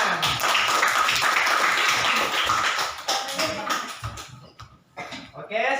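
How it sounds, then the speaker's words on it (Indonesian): Classroom applause: a group of students clapping steadily for several seconds, dense and close, then thinning into scattered claps with a voice speaking briefly near the end. "Beri tepuk tangan."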